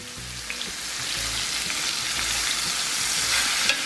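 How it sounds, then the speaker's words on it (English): Thick cheap steaks searing in a hot pan, giving a steady, fairly quiet hiss and sizzle with a few faint pops, and no one talking. "Alright, let me get these seared up."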